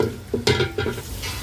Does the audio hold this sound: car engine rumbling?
no